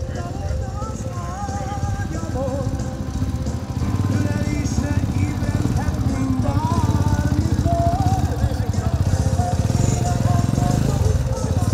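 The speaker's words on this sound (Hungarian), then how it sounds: "Norbi, Budapestről, fekvőtámaszos motorral, strandpapucsban, ahogy kell, 15 másodperc alatt egy tapsot megérdemel." A motorcycle engine runs and revs at a moto-rock weekend event, a loud, continuous rumble that grows slightly stronger midway, while a voice talks over it.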